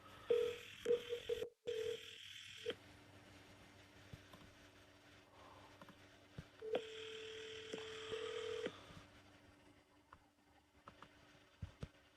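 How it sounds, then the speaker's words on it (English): Phone dialing tones sound as a call is placed to ChatGPT, with two long electronic ringback bursts separated by a pause, fairly faint against a quiet background. "press the blue phone icon to dial to ChatGPT"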